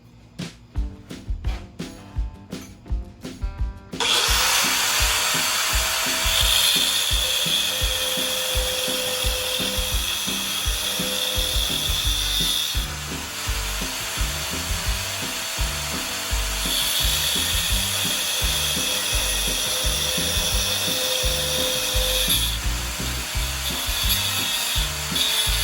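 A power tool grinds steadily through a 1/4 inch steel plate to notch a 3/8 hole into a slot, a loud continuous abrasive whine running for over twenty seconds after a few short bursts at the start.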